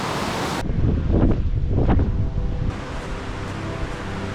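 Strong wind gusting across the Nuuanu Pali cliff lookout on Oahu, a loud roaring rush buffeting the microphone that swells and then eases off.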